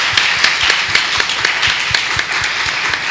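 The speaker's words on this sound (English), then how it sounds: "Please let's give them a big round of applause." Loud audience applause for panelists at a talk on miscarriage and infertility in Nevis, close, dense clapping with sharp individual claps standing out in an even rhythm.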